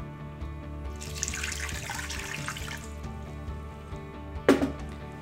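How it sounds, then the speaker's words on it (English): Warm water poured into a bowl for making borax slime at home, a gentle trickle of liquid with splashing that swells in the middle, then a brief sharp knock near the end. "in your second bowl, add a little less than 1 cup of warm water"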